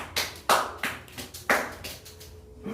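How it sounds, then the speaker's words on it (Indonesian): A short burst of scattered hand clapping from a small group, a few sharp claps rising and fading in uneven waves, fairly close. "Tepuk tangan dulu untuk Dimyati."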